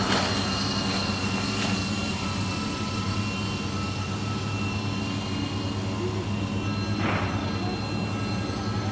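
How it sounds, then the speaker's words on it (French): A 250-size RC helicopter shifted into its second, faster flight speed gives a steady, sustained motor and rotor drone at moderate distance, running continuously with faint passing whooshes and no talk. "on a un hélico qui va aller un petit peu plus vite"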